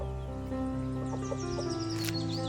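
Chickens cluck softly near a coop at a village house in Konkan, several short calls scattered over a steady low background hum, fairly close and with no talking.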